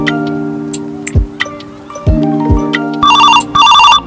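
A telephone rings loudly in two close bursts of bright electronic ringtone, preceded by a few knocks and thuds in a comedic scene.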